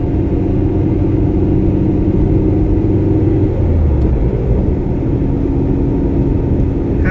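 A 1991 Nissan Sentra B12 cruises along a motorway, its engine droning in a steady loud rumble with dense road and wind noise throughout, no voices.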